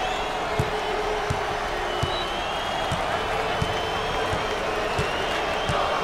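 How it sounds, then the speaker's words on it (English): A big arena crowd at a college basketball game in NCAA Basketball 10, North Carolina Tar Heels versus Duke, roars steadily. Regular thumps of a bouncing ball cut through the dense, continuous cheering throughout. "this crowd is something else when it gets going"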